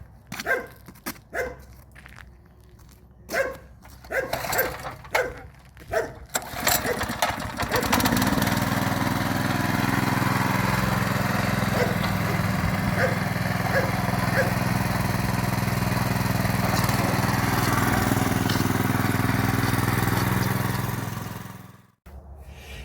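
A walk-behind tractor engine runs steadily and loudly at its maximum 3600 rpm for a long stretch, after several sharp barks near the start, then cuts briefly.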